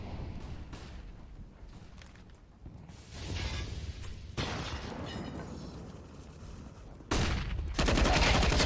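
Rapid gunfire rattles in a Counter-Strike match on the Train map, with repeated bursts of automatic spray and sharp single shots growing louder toward the end, dense and close.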